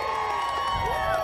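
A parade crowd cheers and shouts outdoors, a dense mix of excited voices, children's cries and whoops at moderate loudness, continuous throughout.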